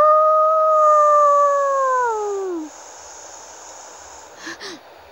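A wolf howls in the Minecraft video game, a loud, clear, sustained howl held for over two seconds and sliding downward at the end, followed by two short, quieter yips against light background hiss.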